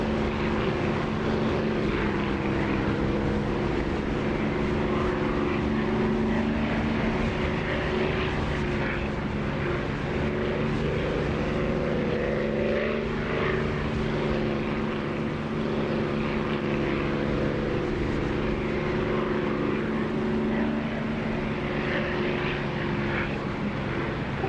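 A propeller aircraft engine in the DCS flight simulator game drones steadily for the whole stretch, a constant buzzing hum with no pauses.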